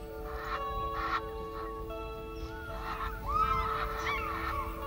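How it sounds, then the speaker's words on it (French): Egyptian goose in the Rift Valley honking in several short bursts, repeated harsh calls at moderate distance over steady background hum, with no talking. "L'oie d'Égypte, contrairement à l'ibis sacré, existe encore en Égypte."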